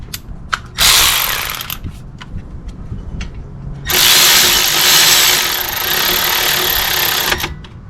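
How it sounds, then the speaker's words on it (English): A ratchet tightens the caliper mount bolts on a 2005 Toyota Camry XLE during a front brake job, giving close clicking bursts followed by two long buzzing runs of a powered ratchet. "Tightening up my bolts."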